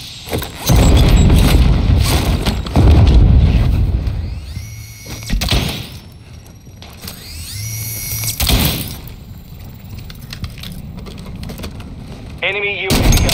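Grenade blasts and rapid gunfire from an online shooter game crash out in several loud bursts with gaps of quieter mechanical clatter, closing on a rising electronic whine.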